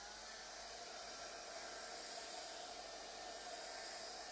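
A hair dryer blows over freshly painted rose artwork on a craft triple switch plate, giving a steady, soft airy hiss with no talking.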